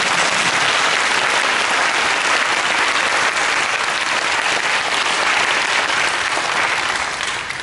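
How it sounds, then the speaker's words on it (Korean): Loud, dense applause from a congregation at a church service, sustained and even throughout, with no break or lull. "다 함께 박수로 하나님께 보내드립니다."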